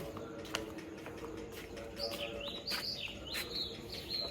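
Faint sparrow chirps come in a loose rhythmic string over soft, steady background noise, growing more frequent toward the end, around dawn in rural Punjab.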